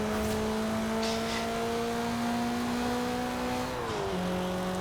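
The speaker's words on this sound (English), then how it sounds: "it's nice to hear the blow-off valve when you let go of the gas" A Toyota Celica ST205 rally-bred turbo car in Forza Horizon 4 holds a steady engine drone that shifts pitch near the end as revs change, heard alone without talk.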